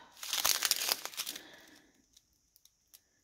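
A small plastic bag of rhinestones crinkles and rustles close up in a dense burst of handling, then settles into a few faint clicks and taps.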